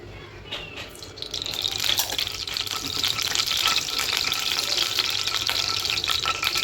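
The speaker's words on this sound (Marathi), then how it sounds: "आता आपण यामध्ये टाकणार आहोत तेल." Hot oil sizzles and spits in a wok after a brief quiet start, rising into a steady crackling hiss with sharp pops scattered through it.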